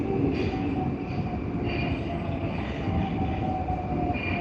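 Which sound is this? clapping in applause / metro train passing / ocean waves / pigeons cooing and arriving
metro train passing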